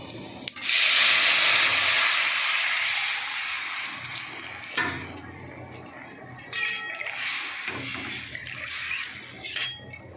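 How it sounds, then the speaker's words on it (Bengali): Curry paste poured into a hot pan of oil bursts into a loud, near sizzle that hisses steadily, then slowly eases off, with a few metal pan clatters and brief scrapes near the end. "আমি এবার কারিটা ঢেলে দেবো।"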